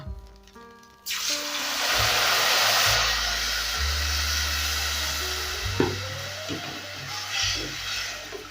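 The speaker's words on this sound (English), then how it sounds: "I'm going to go in with my water." Water poured into a hot pan of turmeric fried rice sets off a loud, steady hiss and sizzle. It bursts in abruptly after about a second of quieter cooking and keeps going, with light scraping and stirring clinks near the end.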